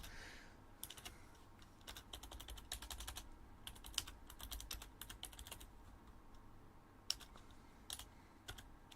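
Rapid, irregular typing on a computer keyboard, with clicking keystrokes in uneven bursts and short pauses, close and fairly quiet, with no talking.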